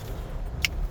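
A Mercedes SL550 with 75,000 miles of Las Vegas city driving makes a U-turn, heard as a steady low engine and road rumble from inside the car, broken once by a brief light click.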